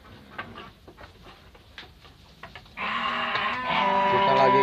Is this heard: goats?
yes